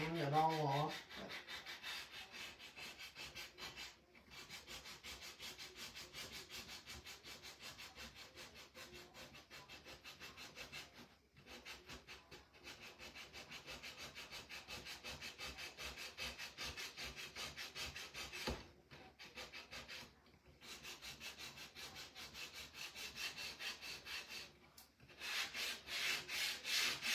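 Wood being hand-sanded to give it an aged, distressed look: a close, steady rasping scrub that runs almost continuously, broken by a few short pauses, with no voices.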